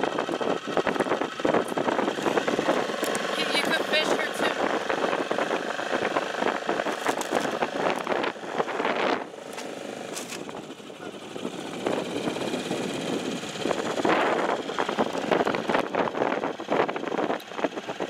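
A rental boat's motor runs steadily out on Cuyamaca Lake, a continuous mid-pitched engine drone that stays loud and close throughout, dipping slightly midway before picking up again, with no talk over it.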